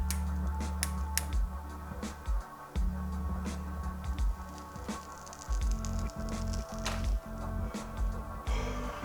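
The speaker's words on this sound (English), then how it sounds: "think you heard like those little sprinkle pops when I hit that weed" Cannabis burning in a pipe gives off scattered small crackling pops and sizzles, close and fairly quiet, in irregular clusters over a soft background hiss.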